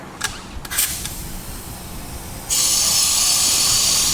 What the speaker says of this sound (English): let's throw this in the blast cabinet